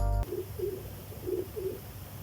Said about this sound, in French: Oh le pigeon là,